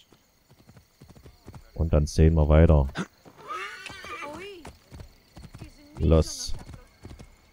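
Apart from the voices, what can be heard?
horse galloping in a video game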